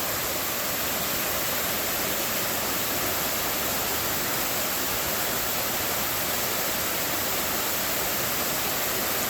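Waterfall in Lehigh Gorge State Park, close by, pouring continuously as a loud, even rush of water with no breaks and no voices.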